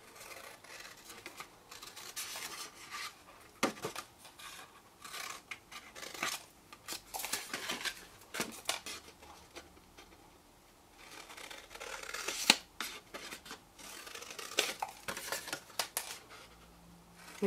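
Scissors snip notches into card while shaping a Stampin' Up! pen caddy gift box, a steady run of close, crisp cuts and small paper rustles with brief pauses between bursts.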